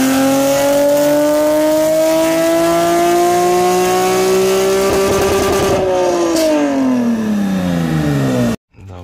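Nissan 370Z engine revving hard on a dyno, a loud, steady climb in pitch that wavers, then the revs drop away before a sudden cut to silence near the end.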